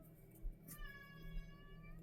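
A domestic cat meows once in a drawn-out, rising-and-falling call, faint and close, over a low steady room hum with no talking.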